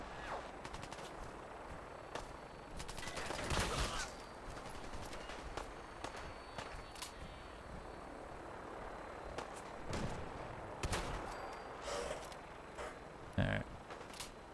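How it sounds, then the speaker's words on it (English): Scattered gunshots from Fallout 4 combat near a Brotherhood of Steel position, sharp transient cracks popping at irregular intervals over a steady background hum, with a couple of louder bursts near the end. "who's stupid enough to be popping off shots at the Brotherhood?"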